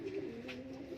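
Lahori fancy pigeons cooing in a soft, low, continuous murmur, close and faint, without talk.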